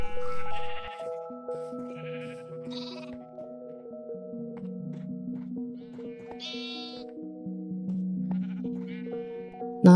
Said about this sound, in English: All sheep are in position.